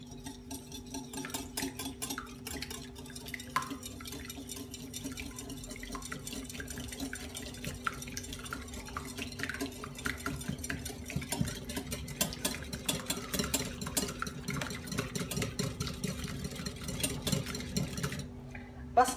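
Egg and a teaspoon of vanilla being stirred together in a bowl, a steady run of soft scraping and clinking of the utensil against the bowl under a constant low hum, with no talk.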